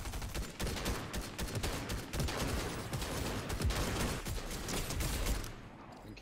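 Rapid bursts of gunfire from the Fortnite video game in a no-build duos match, dense, overlapping volleys that keep up nearly without pause for several seconds, loud and close, then briefly thin out at the end.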